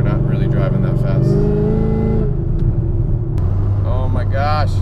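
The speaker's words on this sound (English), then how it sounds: "Maybe I'll just drive around for a moment and let the exhaust sing." A modified car's engine and exhaust hum and rumble steadily while driving, with a brief rise in revs near the end, under a voice talking.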